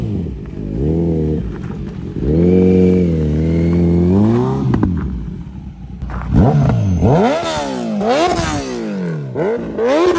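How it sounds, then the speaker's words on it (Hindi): A car engine runs close by and revs repeatedly, its pitch sweeping up and down in several bursts over steady idling, with no talk. "भाई आपको गाड़ी की आवाज सुनाई आ रही होगी"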